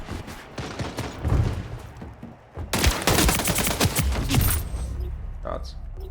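Rapid video game gunfire from Splitgate 2 crackles in dense bursts with loud automatic volleys, and a voice speaks briefly over the shooting.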